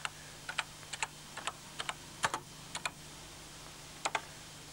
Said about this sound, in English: We simply need to start with the line number, 50, and then type in whatever text we want to be in the line.